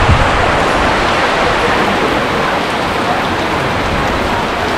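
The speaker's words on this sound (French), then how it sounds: "La grosse, grosse pluie." Heavy tropical rain pours down at a restaurant on Marie-Galante in Guadeloupe, a loud, unbroken roar of water that stays steady throughout with no talk.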